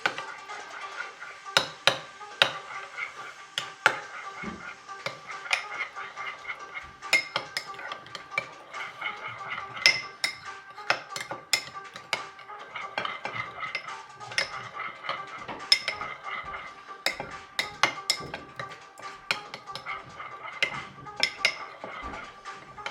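Sriracha and mayonnaise stirred together in a bowl with a utensil, a long run of quick clinking and scraping taps against the bowl, close and fairly quiet, with no talk.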